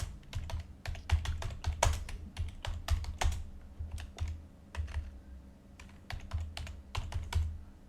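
Fast, uneven typing on a computer keyboard, with bursts of sharp key clicks and brief pauses between runs, close and clear with no voice over it.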